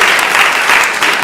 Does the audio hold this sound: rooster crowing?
no